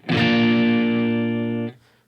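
A clean electric guitar played fingerstyle through a Line 6 HD500 rings out as a single sustained note or chord with a crisp attack, holding steadily for over a second before being cut off.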